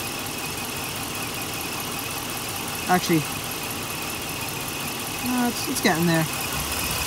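A 5.7L Hemi engine idling at operating temperature, a steady mid-pitched hum running underneath, while someone speaks briefly over it near the middle and end.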